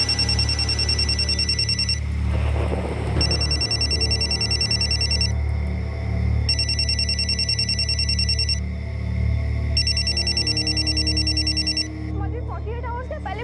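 A telephone rings in four repeated bursts with short pauses between them, heard over a low, steady background.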